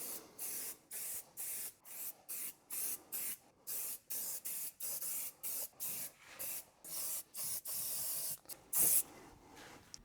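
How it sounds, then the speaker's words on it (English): Repeated short bursts from an Adams In & Out aerosol-style spray misting onto matte plastic interior panels of a truck, about fifteen evenly paced hisses over ten seconds, close and clear with no talking. "here we have the Adams in and out spray that we're going to use on the plastics"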